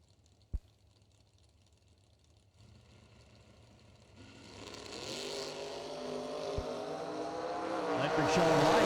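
A Corvette Roadster drag race car at a drag racing event builds from quiet idle into a swelling engine roar that grows steadily louder toward the end, with a sharp pop early on and an announcer talking.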